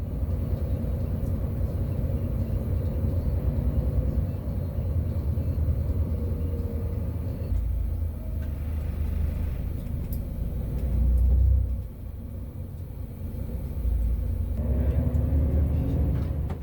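A steady, dull rumble of engines and road noise from slow, jammed highway traffic near an accident with a lane closed, heard from inside a bus on the Seoul to Chungju route, with one brief swell midway.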